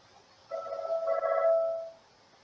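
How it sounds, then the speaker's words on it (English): A phone rings once nearby, a single tonal chiming burst about a second and a half long, moderately loud against a quiet room with no talking. "And my phone is ringing."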